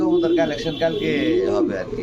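Fancy King and Lahori pigeons cooing at a pigeon farm in low, throaty rolling calls, close by, with people talking over them.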